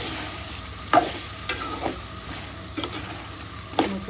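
Tomato, flat beans, potato and turnip stir-fried in a pan with rohu fish curry ingredients, a low steady sizzle broken by several sharp scraping stirs of a spatula against the pan.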